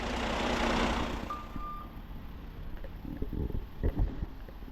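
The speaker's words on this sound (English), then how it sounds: "Hugo backed the Western Star all the way down" Western Star truck backing up, a single backup beep sounding early over a loud rumbling engine, then the engine idling with clunks and knocks nearby.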